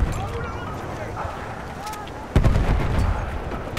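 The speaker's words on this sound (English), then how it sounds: "Gunfire above us." Gunfire overhead in Battlefield 1 multiplayer Operations: a dense rumble of distant shots and artillery-like booms that jumps sharply louder midway, with soldiers' voices calling out over the battle.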